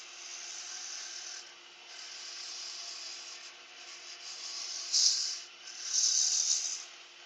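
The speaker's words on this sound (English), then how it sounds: "Using the 3/4 inch spindle roughing gouge just for this bit." Spindle roughing gouge cutting a wood pen blank spinning on a lathe, a steady hissing, scraping rub close up that swells and eases as the tool moves, with two brief louder bursts near the end.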